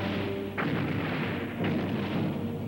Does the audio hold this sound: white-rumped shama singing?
no